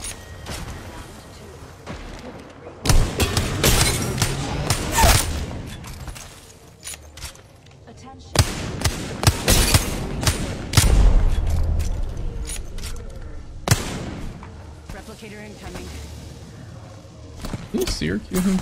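Video game airstrike explosions and gunfire come in several loud bursts: heavy booms and rattling shots crash at about 3, 5, 9 and 11 seconds, with quieter gaps and a voice talking between the blasts.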